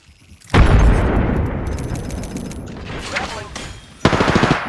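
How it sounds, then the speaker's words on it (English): Grenade blast in Apex Legends: a sudden heavy boom with a rolling rumble, followed by rapid gunfire bursts near the end. "Grenade."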